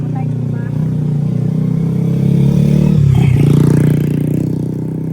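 A motorcycle engine drones past on a street outside a small shop, swelling to a loud peak midway and then receding, with people chatting nearby throughout.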